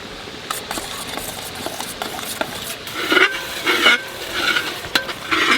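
A spoon stirs turmeric, coriander and cumin powders into about 400 g of sour yogurt in a bowl for vegetable dum biryani, making soft scraping and clinking strokes that grow busier and louder toward the end.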